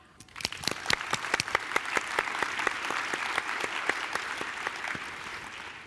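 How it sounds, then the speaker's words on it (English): A conference audience claps in a round of applause, with distinct individual claps standing out early and then thickening into a steady, moderately distant patter that fades slightly at the end. "we give them an additional round of applause before Rajneesh and I start"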